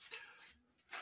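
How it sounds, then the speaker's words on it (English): Dogs playing in a living room in the background, heard as faint whimpers and soft yips under low room noise, with no talking. "You can hear my dogs in the background playing in the living room."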